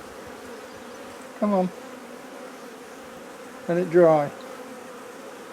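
Honey bees buzz around a hive box where a queen has just been added, a steady hum with two louder close passes near the microphone; someone speaks briefly over them.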